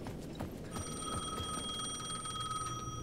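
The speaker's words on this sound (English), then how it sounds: "the phone at the edge of the plaza was ringing again" A telephone rings in the Alan Wake 2 video game, a steady electronic bell tone that starts partway through and rings on without a break, moderately loud over low background noise.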